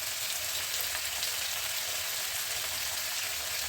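Spices such as turmeric hit hot oil while a curry cooks, giving a steady, even sizzle close by with no talking.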